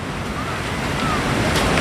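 Sea waves washing onto a beach, a steady broadband surf roar with some wind noise, continuous and fairly loud throughout.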